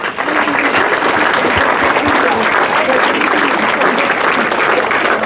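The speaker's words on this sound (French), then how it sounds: "on peut tous les applaudir bien bien fort" A large crowd at a festival inauguration applauds loudly and continuously, a dense wash of clapping hands that holds steady throughout with voices faintly underneath.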